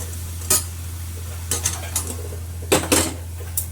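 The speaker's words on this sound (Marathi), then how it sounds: "त्या छोट्या भांड्यात मी आता हे तीळ आणि जिरे भाजून घेते" Sesame seeds and cumin roast in a small pan for a Kolhapuri mutton curry, with faint dry sizzling under repeated metallic scrapes and clinks of a spoon stirring, over a low steady hum.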